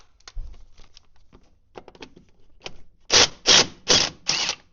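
Four loud, close bursts from a DeWalt impact wrench hammering at rusty lug nuts on small rusty rims, coming after scattered faint clicks and handling noise.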